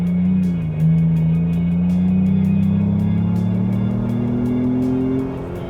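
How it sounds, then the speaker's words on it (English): A 2025 Ford Bronco Big Bend with its small 4-cylinder engine accelerates hard in sport mode, a loud, steady engine drone rising smoothly in pitch for several seconds before easing off at the end. "Got it here in sport mode right now, just to show you the acceleration."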